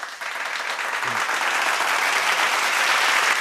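Audience clapping rises quickly into a full, loud, steady burst of applause and holds, with a short voice briefly audible early on.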